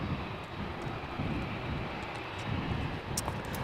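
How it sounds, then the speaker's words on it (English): A Boeing 787 Dreamliner taxiing at Amsterdam Schiphol airport gives off a steady, distant jet engine roar, a broad even rumble that holds without a break. "we have a Dreamliner 7879 arriving from Cartagena, or has arrived from Cartagena, taxiing in from the left or the right"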